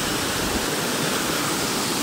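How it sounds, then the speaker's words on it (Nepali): Sundarijal waterfall near Kathmandu pours in a steady, broad roar of rushing water, loud and close with no voices over it. "कति राम्रो देखिरहेको छ है झरना"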